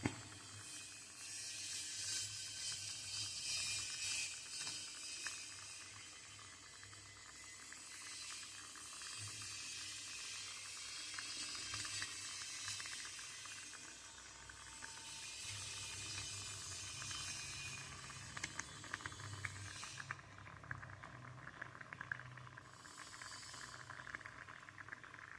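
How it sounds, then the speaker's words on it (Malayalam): Paneer butter masala gravy bubbling at a steady boil in a pan, a continuous soft hiss with dense popping and sputtering, close and faint, no voices. "നന്നായിട്ട് തിളച്ച് വരുന്നുണ്ട്. ഈ തിളച്ച് വരുന്ന ഗ്രേവിയിലേക്ക് നമ്മൾ തയ്യാറാക്കി വെച്ചിട്ടുള്ള പനീർ നമുക്ക് ഇട്ട് കൊടുക്കാം"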